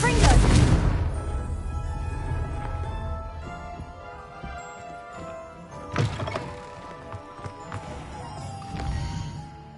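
A Confringo fire spell cast in the video game Hogwarts Legacy lands as a heavy, booming impact at the start, fading into a low ambient bed with another sharp hit later on.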